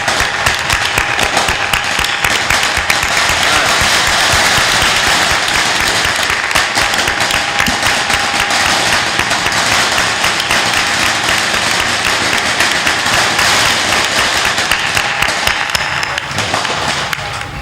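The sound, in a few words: audience clapping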